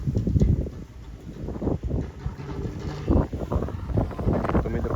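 Strong gusting wind buffets the microphone outdoors, a loud continuous low roar with surging gusts throughout.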